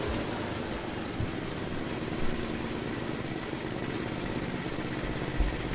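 A Murray Estate 8/27 dual-stage snow blower engine runs steadily after a sudden throttle opening, a continuous mid-pitched small-engine drone with faint knocks, close and unaccompanied by speech.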